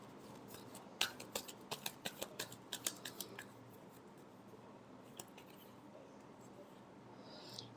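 Tarot cards being shuffled by hand in a quick burst of crisp riffling snaps in the first few seconds, then a quieter stretch with a single faint snap and soft handling noise.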